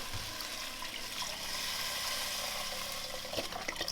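About a litre of stock is poured into a soup pot for minestrone, making a continuous, close, splashy liquid rush that holds steady for several seconds, with a light clunk near the end and no talking.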